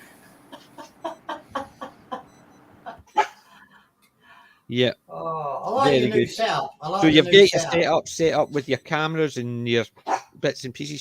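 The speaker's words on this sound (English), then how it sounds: "That's my dog's barking" A small dog barks in a quick run of sharp yips at the start, then people talk over intermittent further barks.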